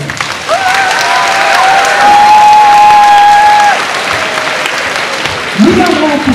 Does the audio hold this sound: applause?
yes